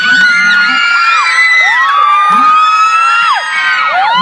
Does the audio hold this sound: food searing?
no